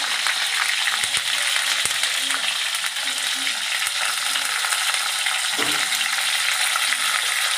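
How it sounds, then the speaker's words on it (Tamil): Steady, dense sizzling of sundakkai (turkey berries) and onion frying in hot oil, close and continuous, with a few faint clinks from a utensil stirring the pan. "எண்ணெயில் தான் இதை பொரிக்கணும்"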